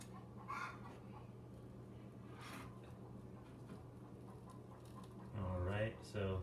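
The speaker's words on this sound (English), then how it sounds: "I hear chickens." Chickens cluck faintly in the distance over a steady background hum during a home toilet replacement, with a louder burst of clucking near the end.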